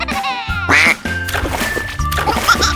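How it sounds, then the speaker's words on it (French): A little cartoon duckling swimming gives a few loud, bright quacks in quick succession, close up, with no talking over them. "Le petit canard nage joyeusement."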